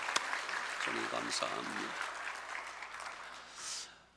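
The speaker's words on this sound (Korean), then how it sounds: "우리 찬양 받으신 주님께 영광의 박수 올립시다" Congregation clapping during a Sunday worship service in a Korean church, a steady wash of applause through most of the stretch with someone speaking over it and the clapping thinning toward the end.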